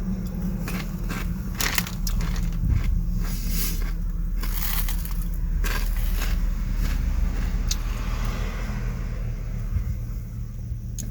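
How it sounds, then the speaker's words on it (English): A churro snack is crunched and chewed close to the microphone, with loud, continuous crushing bites and a low rumble underneath, with no talk. "Pardon my chewing noises or any gross sounds"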